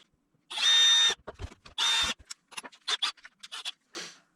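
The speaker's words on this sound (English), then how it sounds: "I'm going to drill a hole all the way through" A power drill whines in two sustained bursts, close and loud, boring a pilot hole through a homemade jaw jacker hook setter, separated by short scraping and clattering sounds.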